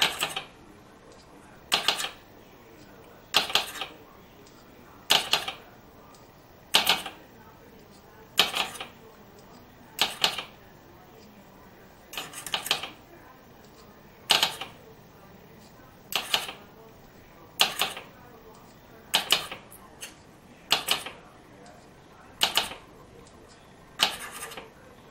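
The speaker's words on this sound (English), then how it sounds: "I just always tend to mix up the crayon wax in there so it's not lumpy" Melted crayon wax is stirred in a container, making a steady series of sharp knocks and clatters about every second and a half, each followed by brief scraping, over quiet background.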